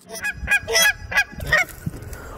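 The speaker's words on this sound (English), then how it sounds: "these geese right here are just really pissed off" Several loud, harsh goose honks in quick succession, close by and agitated.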